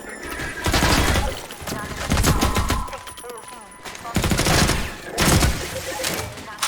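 Gunfire in the video game Half-Life 2, loud bursts of rapid automatic shots in several volleys with short pauses between them.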